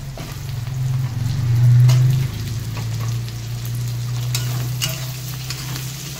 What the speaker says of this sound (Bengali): এবারে এই আলুগুলো দেবো। আলুগুলো দিয়ে একটু ভাজতে হবে।